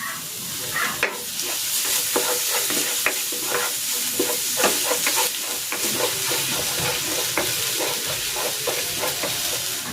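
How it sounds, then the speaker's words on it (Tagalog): Garlic sautéing in a hot pan for a lemongrass chicken dish, a steady bright sizzle with frequent scraping stir clicks throughout, close and continuous, no talk. "Magigisa na ako ng bawang."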